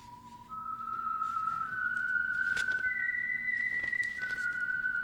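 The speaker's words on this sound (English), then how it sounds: "That whistle is your signal for the Signal Oil Program" A lone whistler carries the theme tune of the old Signal Oil radio mystery program, a clear rising melody held in long sustained notes over a faint background hum, no voices.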